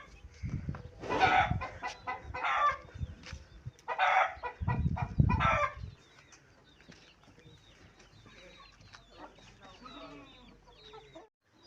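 Aseel chickens cluck while a rooster crows loudly and close by, in several bursts over the first half. The farmyard then drops to faint background clucking.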